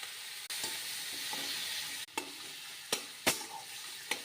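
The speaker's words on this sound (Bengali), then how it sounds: "কড়াইতে তেল দিয়ে দিলাম, রসুন কেটে দিয়ে দিলাম, এর মধ্যে মাছগুলি দিয়ে দিলাম, রাখা টমেটোগুলি দিয়ে দিলাম" Small fish frying in oil with chopped garlic and tomatoes in a wok, a continuous close sizzle broken by several sharp knocks and scrapes of a utensil against the pan.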